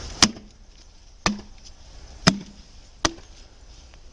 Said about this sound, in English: Robin, you want to go up the steps and try to pound so we can hear the noise?